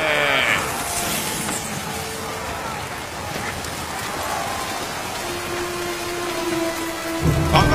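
Heavy rain pours steadily with rumbling thunder in a stormy film scene, a constant loud wash throughout, with a brief low tonal rumble late and a deeper boom near the end.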